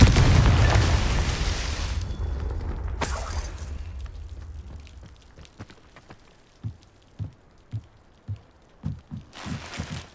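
Confringo spell blast in the video game Hogwarts Legacy: a loud, rumbling explosion that slowly fades over several seconds, then a series of small scattered debris pattering sounds.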